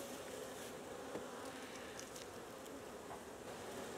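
Honey bees festooning at an opened hive with pulled frames, a dense, steady buzzing hum close to the microphone, unbroken and at even loudness for the whole stretch.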